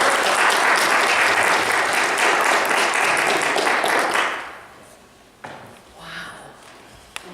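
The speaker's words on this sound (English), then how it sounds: "So if you could all give a big hand to Reverend Jessica Fish." An audience welcoming a reverend breaks into loud, dense applause that holds steady for a few seconds, then fades to scattered claps and faint room noise.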